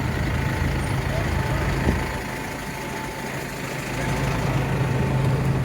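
An airport shuttle bus at a transfer bay idles with a steady low diesel rumble and faint hum, loud and close, with a brief knock partway through.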